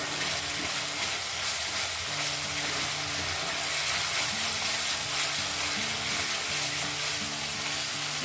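Spiced masala frying in oil for doi katla gives a loud, continuous close sizzle and crackle in a pan, with faint stirring scrapes underneath and no voices.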